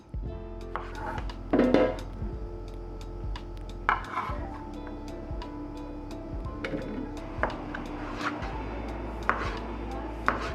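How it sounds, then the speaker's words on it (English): Half a zucchini is sliced into thin half moons on a cutting board, producing sparse knife taps and thuds at irregular intervals over a quiet kitchen background. "We'll take half a zucchini and slice it into these nice, thin half moons."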